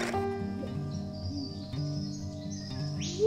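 Birds call from high up in a tree, a steady layered chorus of chirps and whistles that runs without pause at moderate volume, with no voices.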